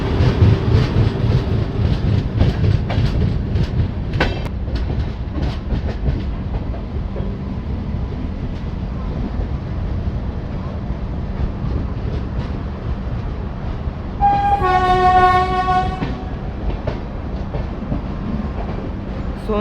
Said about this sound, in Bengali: ভারতের সবচেয়ে শক্তিশালী গুডস লোকোমোটিভ